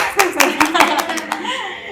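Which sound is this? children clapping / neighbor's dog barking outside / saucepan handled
children clapping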